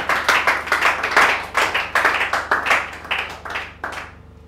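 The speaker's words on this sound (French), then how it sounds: "Est-ce qu'on peut acclamer pour la parole de Dieu?" Church congregation at a live worship service clapping together in a quick, steady rhythm, close and loud, briefly fading at the end.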